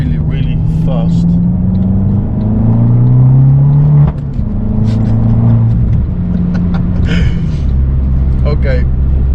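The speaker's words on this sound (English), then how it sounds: "the owner of this car has changed the exhaust" An Abarth 500C automatic with an aftermarket exhaust revs hard through the gears, its engine note climbing and dropping with a sharp shift break midway, loud and close, while someone talks over it.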